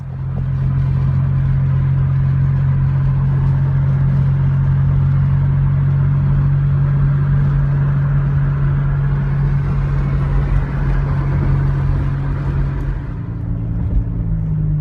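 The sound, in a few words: car driving up Trans Mountain Road, Franklin Mountains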